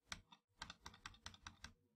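Computer keyboard keys pressed one after another in a quick, steady run of about eight crisp clicks, including a backspace, close and clear with no talking.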